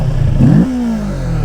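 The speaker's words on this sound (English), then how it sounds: "But when you rev it up, not bad." A 2023 Kawasaki Ninja 650 motorcycle engine revs up sharply in a close, loud blip, the pitch rising and then dropping into a steady idle drone. No one speaks.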